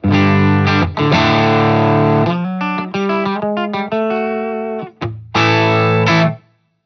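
An electric guitar plays through a modified $50 mini amp into a 4x12 cabinet: loud, distorted chords and single-note runs with short pauses, ending in a sustained ringing chord.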